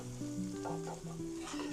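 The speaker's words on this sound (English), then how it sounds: "Our butter is getting nice and foamy, so we know it's just the right temp." Foamy butter and roasted garlic sizzle in a pan with a quiet, even hiss, while steady musical tones play over it.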